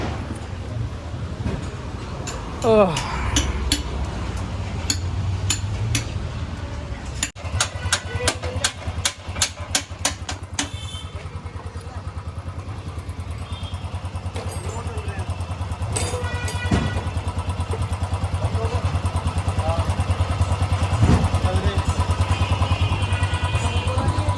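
A small motorcycle engine running with its silencer removed, a loud, steady open-exhaust drone with rapid clattering bursts and revving, close by, with voices talking over it at times.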